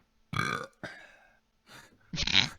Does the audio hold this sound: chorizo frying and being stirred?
no